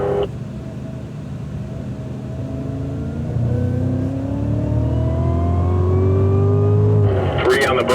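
A 2016 Cadillac CTS-V engine accelerating on a racetrack, its steady drone rising smoothly in pitch for several seconds, loud and continuous, from inside the car.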